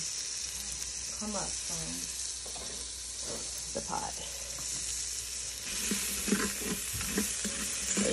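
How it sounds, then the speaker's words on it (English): Green, white and yellow onions sauté in an Instant Pot, a soft continuous sizzle with occasional stirring, heard beneath a person talking. "So you're gonna saute your green onions"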